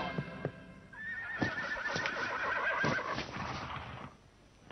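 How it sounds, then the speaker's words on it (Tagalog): A horse gives a long, loud whinny close by, a wavering high cry lasting a few seconds, with a few hoof clops before it and quieter ones under it. "Ang kabayo!"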